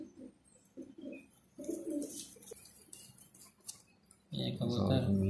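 A pigeon coos in short bursts at close range, its low throaty calls repeating through a yard with some chirping birds, ending in a louder, fuller stretch of cooing.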